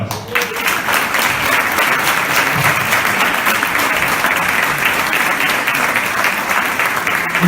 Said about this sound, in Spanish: con una gran ovación y un gran aplauso a estos tertulianos